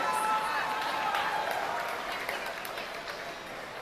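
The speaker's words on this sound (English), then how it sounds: "Let's have a round of applause for all of our Class 11 exhibitors." An audience at an evening youth fair livestock show in Alachua County applauds the exhibitors, steady dense clapping that fades slightly over several seconds, with crowd noise and a voice mixed in underneath.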